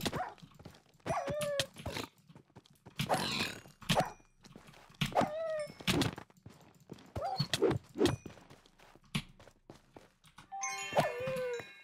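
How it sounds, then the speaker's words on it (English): Dogs in the Minecraft video game give short, sharp barks and yips again and again at uneven intervals, with a brighter jingling burst near the end. "Oh my stupid dogs, where are they coming from?"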